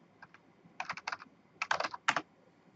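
Keys on a computer keyboard are tapped in quick clusters, a few light strokes first and then denser bursts close by, with no talk.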